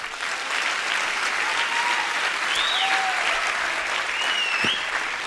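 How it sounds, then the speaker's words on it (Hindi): Seminar audience clapping on cue during a business talk: a continuous, even wash of many hands clapping throughout, with a few brief whistle-like tones rising above it. "चलो खुश होकर तालियां बजाओ थोड़ा।"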